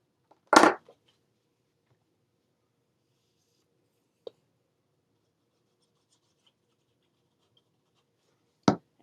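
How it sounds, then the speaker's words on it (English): A bone folder creases paper on a card folio, heard as one short firm scraping rub up close, then a tiny tick and a second brief stroke, with near silence between them. "Grab my bone folder."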